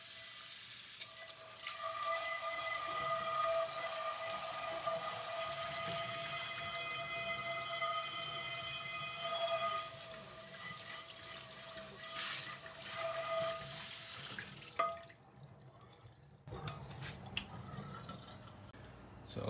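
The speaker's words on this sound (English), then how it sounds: "let's see how the rest of it comes off under some running water." Steady running tap water splashes and hisses into a HexClad pan, then cuts off near the end, leaving a few faint drips and clinks.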